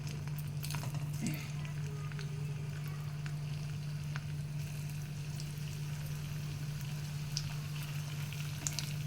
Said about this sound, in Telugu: ఆయిల్ వేడెక్కింది ఇప్పుడు మనం వీటిని ఇందులోకి వేసి కాల్చాలి